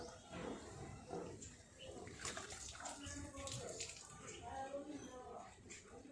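Tamarind pulp poured into a pot of horse gram soup (ulava charu): a steady, continuous watery splashing and sloshing runs throughout, with a voice talking over it.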